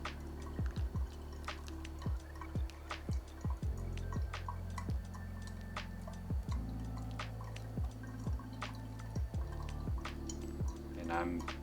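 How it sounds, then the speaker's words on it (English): Water poured from a kettle in a steady stream over coffee grounds in a pour-over brewer, topping up with another 150 grams, making a quiet close trickle with scattered drips and small ticks throughout. "we're going to pour 150 more grams of water."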